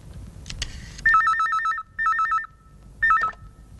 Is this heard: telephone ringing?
yes